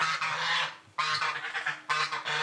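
Farm geese honk loudly and close by in three strong bursts of harsh, nasal calls, with brief pauses between them.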